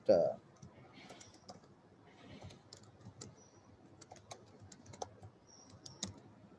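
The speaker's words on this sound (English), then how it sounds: "Let me type it." Typing on a computer keyboard, with scattered close key clicks and taps at an uneven pace, faint and mixed with low voice sounds in the background.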